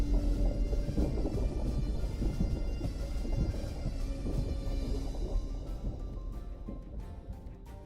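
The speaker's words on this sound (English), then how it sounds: "I almost completely forgot about the storm." Rumbling thunderstorm in a medieval-themed video game: a continuous low roar with rolling thunder and rain-like wash, steady and loud throughout, fading slightly toward the end.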